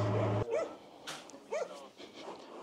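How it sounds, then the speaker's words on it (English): Several farm dogs greeting visitors, giving a few short, faint barks and yips spaced through a quiet outdoor scene, with no talking. "we get greeted by the dogs now"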